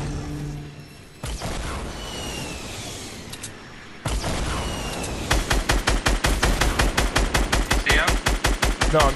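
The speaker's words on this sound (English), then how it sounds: "No, I'm just shooting trees down." Rapid automatic gunfire in a video game as a player shoots down trees, a fast steady rhythm of loud close shots filling the second half after quieter game noise.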